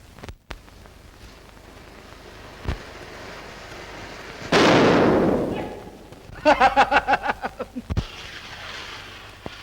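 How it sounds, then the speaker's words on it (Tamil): Firecrackers burst in the middle of a road: a few sharp isolated cracks, then a loud roaring blast followed by a rapid string of popping bangs, with a final sharp crack. "சின்ன குழந்தை மாதிரி நடு ரோட்ல பட்டாசு வெடிக்கிற"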